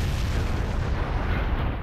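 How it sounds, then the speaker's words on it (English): Massive explosion in the Naruto Storm 4 video game during the Madara versus Hashirama fight, a dense, roaring broadband blast that fills the whole moment continuously, loud and close without speech. "fucking nuclear explosion. Probably bigger than a nuclear explosion."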